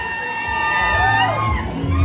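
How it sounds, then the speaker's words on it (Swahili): An audience at a church graduation celebration cheers and whoops, with voices in the crowd and musical tones running underneath. It is a steady, moderately loud crowd noise lasting about two seconds. "Wapigie hao makofi"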